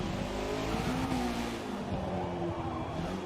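A Toyota Runx RSi with a VVTL-i engine in the Forza Motorsport video game, its engine droning at high revs with tires squealing in wavering, sustained tones, loud and continuous without speech.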